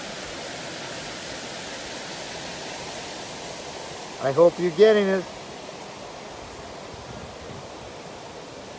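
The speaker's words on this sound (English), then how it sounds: "The waterfall with a bunch of stones in, and the rain still continue going." Waterfall pouring over stones in El Yunque rain forest, Puerto Rico, in continuing rain, a steady broadband rushing roar throughout; a person speaks briefly partway through.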